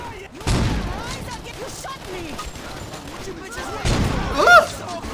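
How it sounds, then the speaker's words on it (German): Gunfire in Saints Row 2 during a deathmatch, with bursts of shots and crashes, loudest near the start and again toward the end, mixed with game noise. "die schießen mich alle ab"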